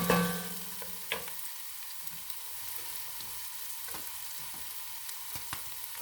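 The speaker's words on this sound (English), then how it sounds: "I'm just giving that a little bit of a stir." Homemade tomato sauce with meatballs and sausage being stirred in a pot, soft sizzling and scraping with a couple of sharper spoon knocks, close and fairly quiet, no voices.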